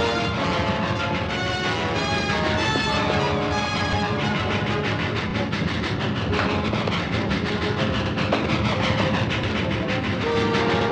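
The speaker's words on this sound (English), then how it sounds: "The passenger train's already gone through the junction." A passenger train runs through a junction with a dense, loud, continuous rumble and rattling wheels, and a horn or whistle tone rises in the middle and near the end.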